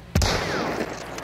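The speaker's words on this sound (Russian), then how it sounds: "Куда-то выстрелил." A single loud gunshot in the video game Hunt: Showdown, a sharp close crack followed by a long ringing echo that tails off.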